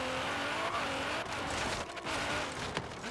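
A Nissan GT-R slides on a wet track in the racing game Forza Horizon 3, its engine roaring steadily while the tires hiss and squeal through a loud skid lasting a few seconds.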